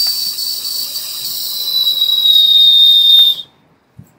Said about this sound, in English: We'll whistle.